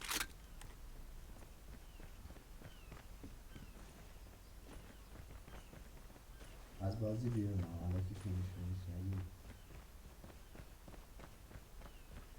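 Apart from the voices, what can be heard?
footsteps in a video game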